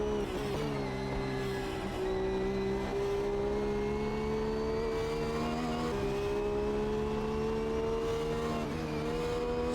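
A race car engine in a racing video game winds up steadily through the gears near the Dunlop chicane, a loud continuous whine that climbs, briefly drops at each shift, then climbs again.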